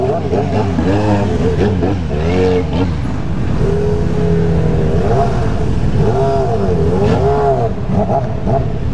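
A Honda CBR motorcycle accelerates while riding in a convoy of motorcycles, its engine revving in rising sweeps close by, with voices talking over the steady road noise.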